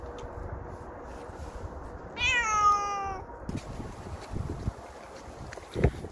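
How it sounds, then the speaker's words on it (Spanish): A black cat outdoors lets out one clear, drawn-out meow against steady wind noise, with some faint rustling and bumps afterward. "aquí estamos con el gato negro"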